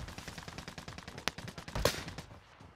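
Rapid automatic gunfire in Call of Duty, a dense burst of close, loud shots with one sharper crack partway through, heard alone without talk.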